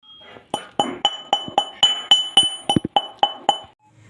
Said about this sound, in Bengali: এবার আমি হামাল দিস্তাতে করে গুঁড়ো করে নেব